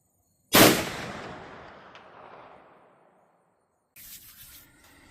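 A single sharp Marlin rifle shot fired at a 300-yard steel target, a loud crack followed by a long decaying rumble, then a faint distant report or impact sound a few seconds later.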